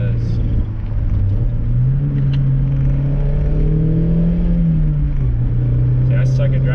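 A Mazda MX-5 Miata engine drones loudly inside the cabin, its pitch rising and dipping unevenly around a fumbled gear change while cornering, with a steady rumble throughout.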